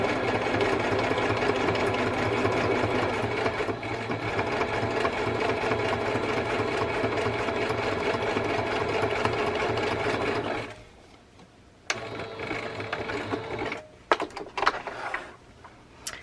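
A home sewing machine stitches trim and fabric for simple pockets in a steady, fast whir for about eleven seconds, then stops, with a few short bursts of stitching and handling noises following.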